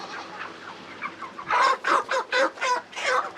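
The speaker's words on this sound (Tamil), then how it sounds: "ஒரு கோழி ஒன்று பிடிங்கண்ணே நமக்கு வேணும்" A chicken at a village poultry shop clucks in a quick series of about six loud, rhythmic clucks, close by, after a quieter stretch of faint bird noise.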